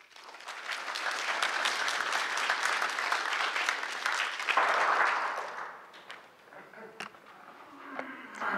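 Audience applause welcoming Dr. Anne Meyerson to talk about an exhibition, steady clapping from a sizable crowd that swells, then thins out into scattered claps toward the end.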